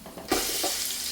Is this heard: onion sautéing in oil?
yes